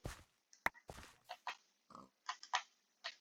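A Minecraft pig oinks in short, quick grunts, several scattered over a few seconds, faint and heard alone among soft game noises.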